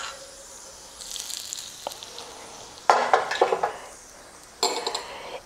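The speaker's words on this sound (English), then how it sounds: "I'm going to add the mustard seeds, and once they start popping, I'm going to turn off the flame" Mustard seeds hiss in hot oil in a pan for tempering a red chutney, under a low steady sizzle. Sharp crackling bursts of popping stand out near the middle and again toward the end.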